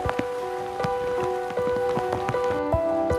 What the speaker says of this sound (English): The sound of the rain is so romantic, walking in the forest on a rainy day.